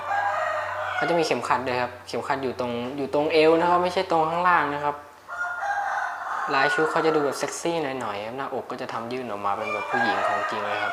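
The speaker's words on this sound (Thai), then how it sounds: "ถ้าเพื่อนๆได้ยินเสียงไก่ก็ เพราะว่าบ้านผมเลี้ยงไก่ครับ" Chickens kept at a home crow repeatedly and loudly with long rising calls, running under a man's continuous speech.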